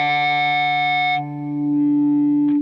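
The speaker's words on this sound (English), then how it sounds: "You hear it change from the octave up to the octave down." A Line 6 Helix pitch effect shifts a sustained guitar tone from an octave above to an octave below: a bright high layer drops away, leaving a deep steady note, with a short pick attack at the end.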